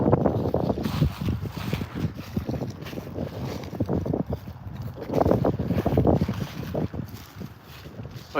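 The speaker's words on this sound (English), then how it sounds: "Getting windy." Strong wind roars across a microphone in an outdoor cemetery, a continuous loud rumbling with repeated gusts throughout, with faint voices barely present beneath it.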